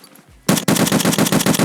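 An M1A rifle loaded with M61 rounds fires in Escape From Tarkov, a rapid string of about nine loud, sharp shots in quick even rhythm after a brief quiet lead-in.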